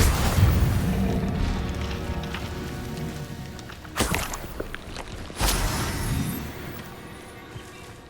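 Expelliarmus spell cast in Hogwarts Legacy: two sharp whooshing magical bursts with booming impacts ring out over a rain-like ambient hiss, the second blast slightly stronger.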